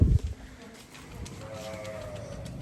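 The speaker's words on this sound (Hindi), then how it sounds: "मारी साथ भेड़ों को अंदर लेकर जाने लगे हैं दोस्तों" A flock of sheep is herded indoors on a farm, with a short sharp bleat-like burst at the start, then fainter animal sounds and shuffling under a quiet background.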